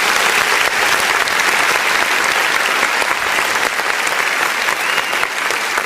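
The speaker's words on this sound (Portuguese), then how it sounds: "Vamos aplaudir o nome do Senhor Jesus" A church congregation applauds during an online worship service, dense continuous clapping from many hands filling the room steadily at high level for the whole span, with no talk over it.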